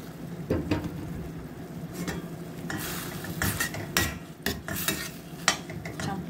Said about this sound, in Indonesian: Campurkan semua bahan-bahannya, sayuran sama tomat pastanya.